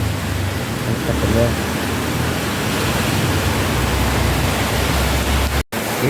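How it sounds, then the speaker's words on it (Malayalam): Steady, dense hiss of heavy rain pouring outside, continuous and loud throughout, with a brief dropout near the end. "പുറത്ത് നല്ല മഴയുണ്ട് കേട്ടോ."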